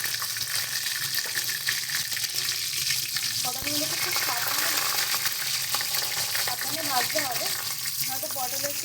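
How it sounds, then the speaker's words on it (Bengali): Stuffed pointed gourds fry in hot oil in a wok, giving a steady broadband sizzle throughout with occasional clinks and scrapes of stirring, close and fairly loud. "এবার আমরা পটলগুলোকে ভেজে নেব"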